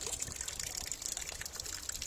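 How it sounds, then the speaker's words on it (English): Small garden water feature set up outdoors in springtime Texas, with a steady soft trickle and dribble of moving water running continuously, fairly quiet and close, no talking. "Here's another little water feature."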